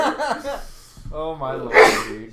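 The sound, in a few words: sneeze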